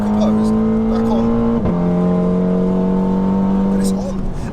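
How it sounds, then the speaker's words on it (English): A Revo Stage 2 Plus tuned VW Scirocco R, about 360 bhp, revs hard through the gears while cornering, its engine note climbing steadily, dipping briefly at a gear change, then climbing again, loud and close throughout. "it revs all the way around"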